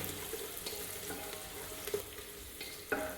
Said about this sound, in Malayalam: ഇനി അതിലേക്ക് ഇഞ്ചി വെളുത്തുള്ളി പച്ചമുളക് അരിഞ്ഞു വെച്ച് ചേർത്ത് കൊടുക്കുക.